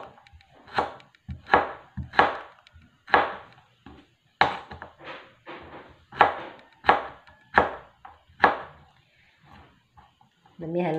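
Carrots are chopped with a knife while pancit ingredients are prepared, giving a steady run of about a dozen crisp, close board strikes at an even rhythm, with a brief voice at the very end.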